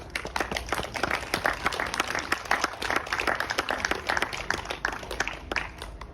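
Wedding guests give the parents a steady round of applause, with many hands clapping at once in a dense, even patter from a moderately distant crowd.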